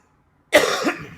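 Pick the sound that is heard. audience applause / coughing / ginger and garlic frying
coughing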